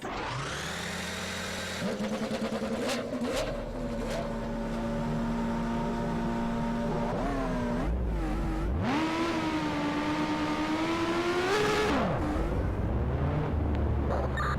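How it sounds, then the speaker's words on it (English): Race car engines in NASCAR Racing 2003 start up and rev loudly, a droning multi-car roar that rises and falls in pitch, running continuously without talk. "Drivers, start your engines."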